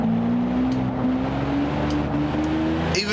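A car engine holds flat out in eighth gear in Forza Horizon 3, a loud, steady drone with a slowly rising pitch as revs build gradually, plus a brief higher whine at the end.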